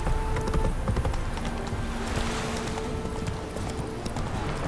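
Rhythmic hoofbeats of a horse galloping in The Witcher 3, steady clip-clop running under ambient game sound, with brief talk in the background.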